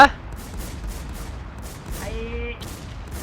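Rapid gunfire rattles in a PvP shooter game, a steady burst of repeated shots at moderate distance, with a brief tonal game sound partway through.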